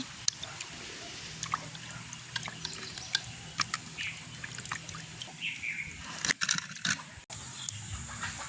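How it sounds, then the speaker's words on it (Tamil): Fish washed by hand in a few changes of water in a village setting: soft trickling and occasional splashes, quiet and close, with birds chirping in the background and a louder splash burst near the end. "நாங்கள் ரெண்டு மூணு தண்ணியில் நல்ல வடிவாக மீனை கழுவி எடுப்போம்"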